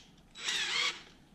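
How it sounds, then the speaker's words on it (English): A drill with a 1/16 inch bit briefly whirs into an actuator assembly of a 7.3 Powerstroke, a single short high-pitched burst of about half a second, fairly faint and close. "I'm going to very carefully drill as close to the center of these holes as I can"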